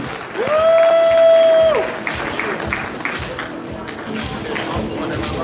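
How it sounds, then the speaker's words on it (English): A round of applause at the Gentlemen's Ball gala, with crowd clapping and a loud whistle or cheer rising over it early, then steady clapping continuing beneath murmuring voices. "let's put our hands together and give everybody a round of applause for showing up tonight"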